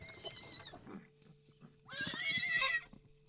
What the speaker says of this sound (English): That stallion is running after them.